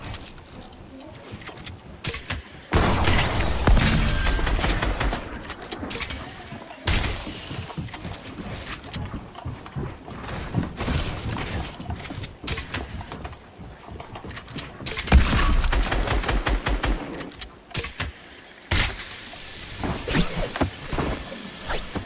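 A shotgun fires in Fortnite in a few loud blasts between quieter stretches of in-game clatter and squeaks, with a voice talking at times.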